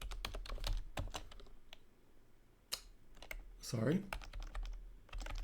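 Typing on a computer keyboard while entering commands in a Cisco Packet Tracer access list lab, quick clustered key clicks with pauses, a spoken apology in between.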